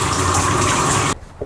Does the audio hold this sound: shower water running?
yes